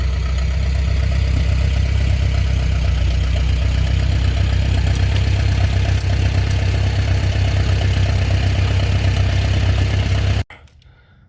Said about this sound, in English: tractor is ready to drive on, so I'm gonna go ahead and drive it on